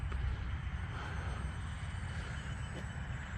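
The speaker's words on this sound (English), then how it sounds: "this airplane sure is a relaxing type of airplane to fly" An E-flite UMX Air Tractor RC model airplane flies, its small electric motor giving a steady whine over a constant outdoor rumble, heard alone without talk.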